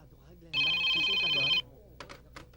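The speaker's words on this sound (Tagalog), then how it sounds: "Cellphone ni Glenda yan, tumutunog." A cellphone rings in a Tagalog drama film, a loud electronic trill lasting about a second before a voice speaks briefly.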